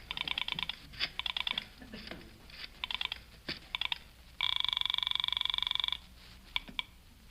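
Telephone being dialed as an old-time radio comedy show sound effect: several quick bursts of mechanical clicks, then a steady ringing buzz for about a second and a half, and a few more clicks.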